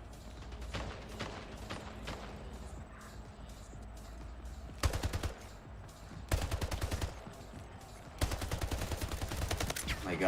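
Gunfire in the video game Splitgate, with light scattered shots early on giving way to three loud, distinct rapid-fire bursts in the second half, each separated by brief lulls.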